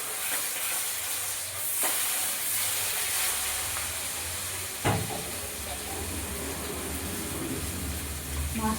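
Fish frying in hot oil, giving a steady close hiss and sizzle throughout, with a couple of brief clatters from handling the pan.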